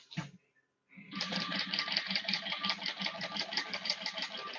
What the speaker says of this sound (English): I'm going to stitch down either side of my D-ring connectors.